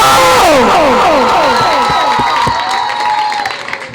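A crowd at an evening devotional program honoring Parasnath Bhagwan cheers with rising and falling whoops and a few scattered claps, loud at first and then tapering off.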